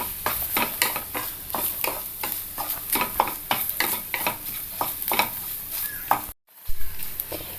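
Grated coconut is roasted in a pan over a low flame, with a steady rhythmic scrape of the stirring spoon over a soft sizzle, close and continuous, broken by a brief silent gap near the end.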